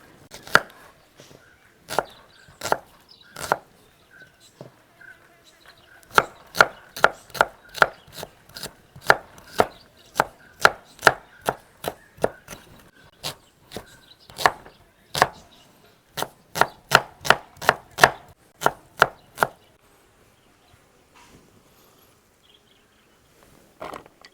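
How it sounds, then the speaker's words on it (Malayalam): Onion being chopped with a knife on a board: a long run of sharp, evenly spaced knocks that come in bursts with short pauses, close and crisp, then fade out near the end, with no voices. "അപ്പോൾ ഈ സവാള നമുക്കൊന്ന് കട്ട് ചെയ്തെടുക്കാം"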